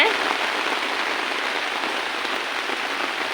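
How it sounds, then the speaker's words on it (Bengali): Steady rain pours onto a rooftop garden, a dense, even patter of drops on surfaces that holds the same moderate level throughout with no voices. "রহমতের বৃষ্টি হচ্ছে।"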